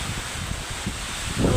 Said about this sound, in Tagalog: Grabe kusuga sa oran kag hangin ho